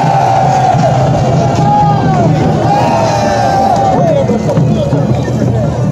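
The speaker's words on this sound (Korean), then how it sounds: "우리 두목님들이 함성을 질러보십시오" Crowd at the Gijisi tug-of-war folk festival in Dangjin, South Korea, roars and shouts steadily throughout, a dense loud outdoor din of many voices with whoops rising above it.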